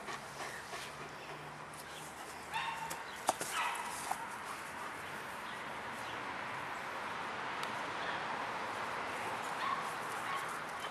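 A dog whimpering and giving a few short barks in a garden, faint and somewhat distant over steady outdoor background noise, with sharp brief yelps near the middle.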